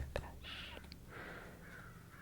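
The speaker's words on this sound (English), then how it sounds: "The crows." Crows caw a few times at a distance, harsh hoarse calls spaced across about two seconds, quiet against a low room background with a soft click at the start.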